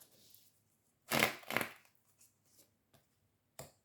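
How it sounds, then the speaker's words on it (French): Tarot cards being shuffled and drawn, heard as two loud riffling bursts close by followed by a few softer taps and flicks of cards against a quiet background. "Allez, je tire les cartes."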